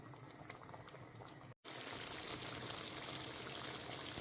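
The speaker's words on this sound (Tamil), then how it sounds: "இது இன்னும் கொஞ்சம் ஒரு பத்து நிமிஷம் இது அப்படியே சுண்டி வரட்டும்" Chicken curry with cashew and almond paste bubbling and simmering in a pan, a steady soft hiss and dense fine bubbling, briefly cut by a moment of silence and then continuing evenly and faintly close by.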